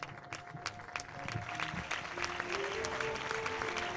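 A large outdoor crowd in Plaça Tirant, Gandia, gives warm, sustained applause during the Crida Fallera festival, dense clapping swelling over background music and faint voices.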